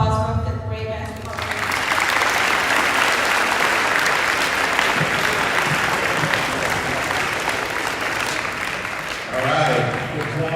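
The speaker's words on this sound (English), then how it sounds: "last round of applause for 5th grade basketball" A school assembly audience gives a long round of applause for a 5th grade basketball team, steady dense clapping filling the hall for several seconds, framed by brief talk at the start and end.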